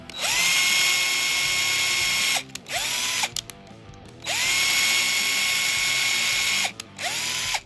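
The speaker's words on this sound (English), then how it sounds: "I'll drill, about 5 holes in the little pick." A small power drill whines up and spins down in repeated bursts, several short passes drilling holes in a plastic guitar pick with brief pauses between them.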